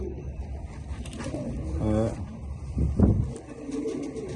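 Homing racing pigeon, a hen with chicks in the nest, giving a few soft throaty coos amid low handling noise and background murmur, fairly faint and close by.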